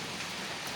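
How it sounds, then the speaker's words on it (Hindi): Steady rain falls in a continuous, even hiss of drops on surfaces outdoors, moderately soft and unbroken, with no voices over it. "बारिश देख रहे हो, बारिश देख रहे हो।"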